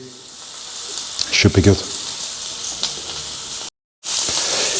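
Sweet Italian sausage flavoured with fennel sizzles steadily in a frying pan, with a loud hiss and a brief burst of louder crackle and stirring. Someone speaks briefly over it, then it cuts out for a moment before the sizzle resumes.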